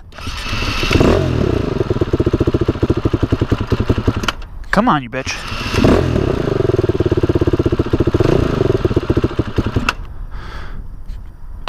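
Motorcycle engine idling roughly and unevenly while the idle screw is adjusted, a loud close pulsing chug that dips and recovers midway, with a man's brief frustrated words over it.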